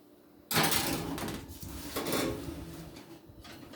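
An oven door shuts after puff pastry goes in, a sudden broadband thump and clatter followed by a second knock and lingering rattles in a kitchen.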